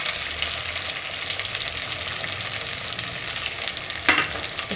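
Spices stirred into an egg gravy masala frying in a pan, a steady dense sizzle throughout with a brief louder scrape of the spoon near the end, close up and without talk.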